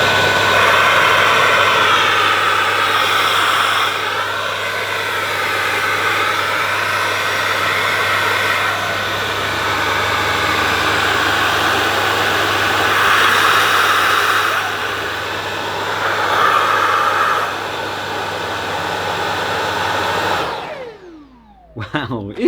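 A Dyson Ball DC49 Multi Floor ultra compact vacuum cleaner runs close by with a steady high whine and rushing airflow. Its pitch wavers slightly as it is used, then the motor cuts off and winds down just before the end.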